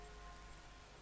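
Rain from a video game falls as a steady, faint, even patter with no breaks, a soft continuous wash with no voices or thunder heard.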